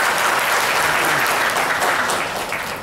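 Dense audience applause at a Thai corporate gathering honouring a national award-winning model workplace organisation, loud and steady throughout before tapering slightly at the end.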